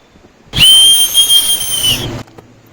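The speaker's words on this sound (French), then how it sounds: "C'était moi le sifflet aussi fort là." A single loud, piercing whistle blast held for about a second and a half, sharp and close, with a steady high tone and slight wavering, then cut off abruptly.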